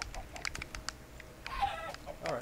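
A chicken in the video game Minecraft clucks in a few short, faint bursts, mixed with light clicking and quiet game noises in the background.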